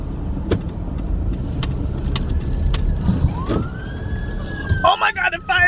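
Fire truck siren wails in from a parking lot, rising and sweeping under nearby road and car noise, growing louder near the end as it approaches.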